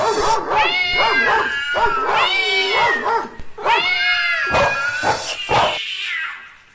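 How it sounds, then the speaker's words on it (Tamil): A dog and a kitten cry out at a white cobra near a house, with overlapping wavering meows and yelping, whimpering barks that come in close, loud, busy bursts before trailing off. "வீட்டில் இருந்த பூனைக்குட்டியும் நாயும் இந்த பாம்பு வருவதை கண்டவுடன் சத்தம் போட ஆரம்பித்தது."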